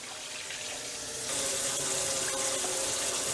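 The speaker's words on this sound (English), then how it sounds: "Take some water in your pan, get to all of it" Water pours from a tap into a pan of stewed chicken, a steady hissing rush that grows louder partway through and continues to the end, with no voices.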